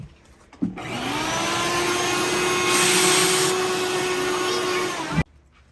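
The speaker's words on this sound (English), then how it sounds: "Oh great, here, let me vacuum that out." A vacuum cleaner switches on, roars steadily for several seconds as it sucks termites out of a bookshelf, with a brief rise in hiss midway, then cuts off abruptly.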